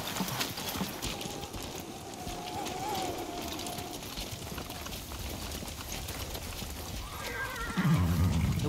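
Horses move in the video game Ghost of Tsushima, their hooves clopping steadily under ambient outdoor noise, with a whinny rising briefly in the middle and a louder flurry of movement at the end.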